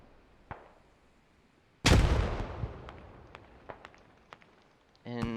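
Grenade explosions in the video game Squad: one loud close blast with a rumbling decay, then scattered sharp cracks and distant pops, with a brief rising tone near the end.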